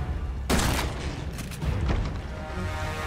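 A few loud gunshot blasts in Resident Evil 7: Biohazard, one sharp report near the start and another about a second later, each followed by a brief ringing decay.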